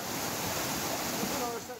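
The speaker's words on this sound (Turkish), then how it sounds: "Taşan dere önüne ne çıktıysa yıkıp geçti." An overflowing stream in flood rushes along in a steady, loud, broadband roar after a downpour in the Black Sea region of Turkey, running continuously with no break.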